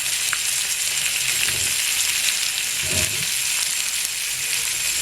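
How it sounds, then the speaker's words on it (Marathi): River fish frying in a pan for a village breakfast in Kokan, a steady close sizzle and crackle throughout with a couple of soft stirring bumps. "हा पूर्ण जो खरंच मासा आहे तो आई आता फ्राय करून घेते"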